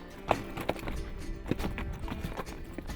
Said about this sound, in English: And I'm following two pretty spirited horses.